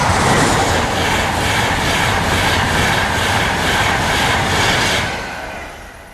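A train rumbles past close by, loud and continuous with a rhythmic clatter of wheels, fading somewhat toward the end.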